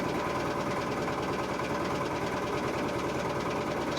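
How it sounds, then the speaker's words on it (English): An outboard motor runs steadily on a boat crossing a lake, a harsh, close, rapidly pulsing crackle and drone that stays level throughout with no voices. "to soften the harsh crackle of the outboard motor"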